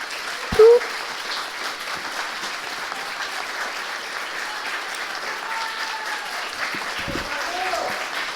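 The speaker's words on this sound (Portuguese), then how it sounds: "eu queria uma salva de palmas" Applause from an audience at an architecture school anniversary ceremony honoring a professor, a steady, fairly soft wash of clapping after a brief sharp bump near the start, continuing evenly throughout.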